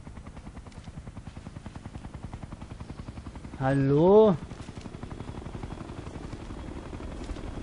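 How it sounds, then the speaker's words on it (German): Steady rhythmic rotor thump of a helicopter in the video game Ghost Recon: Future Soldier, running throughout, with a voice briefly calling out over it. "Na, erstmal der Hubschrauber weg."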